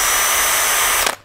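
A cordless drill runs at high speed with a steady, bright whine for about a second, then cuts off abruptly and spins down.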